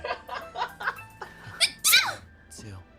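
A sneeze during a Genshin Impact stream, one sharp burst near the middle among soft giggles and laughter-like voice sounds, fairly close and moderately loud.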